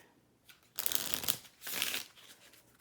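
A deck of cards is shuffled for a board game setup, two quick riffling bursts close by, separated by a short pause, otherwise quiet.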